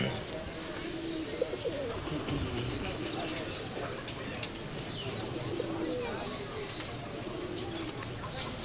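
Soft, low pigeon coos repeat through steady background noise, with faint chirps and scattered bird calls at the busy Saddar Sunday pigeon market.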